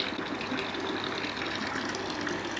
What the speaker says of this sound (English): That's just the water, the noise is just the water filling up.